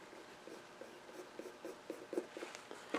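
A pencil marks V cuts on a piece of wood, making quiet, close scratchy strokes in short repeated bursts against a near-silent background.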